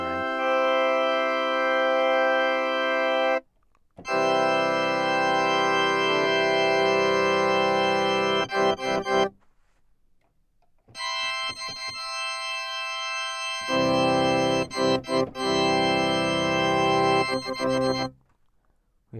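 A bright, high-pitched mixture stop of four to seven ranks on a three-manual American Classic pipe organ built after Schlicker, sounding in loud sustained chords with brief silent breaks between them and no talk.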